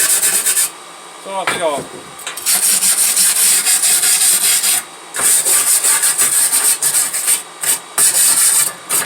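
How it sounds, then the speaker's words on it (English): Someone scrubs a dirty splash shield pan off a 1974 Plymouth Duster, a dense rasping rub with steady, close strokes that pause briefly a few times, with a short spoken phrase near the start. "you got to watch me clean a pan anyway."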